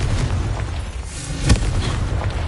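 A Confringo blasting spell goes off in Hogwarts Legacy: one muffled boom about midway, set against a steady low rumble and noise throughout.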